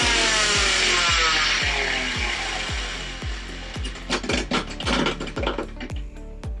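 A Havells Hydro 750W three-jar mixer grinder runs loudly nearby: a harsh whirring motor with fast, regular rattling clicks that turn into choppier grinding bursts toward the end.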